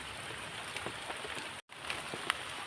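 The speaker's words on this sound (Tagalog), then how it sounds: "Yan, umuulan." Rain falling steadily outdoors, a soft, continuous hiss with scattered drop taps, briefly cut off for a moment before resuming, faint overall.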